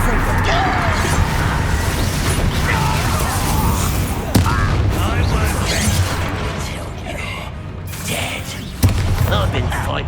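Confringo fire-blast spell cast in the Hogwarts Legacy video game, a sharp thump-like burst rising out of dense, continuous combat noise and music, with a second hit later; character voices sound throughout.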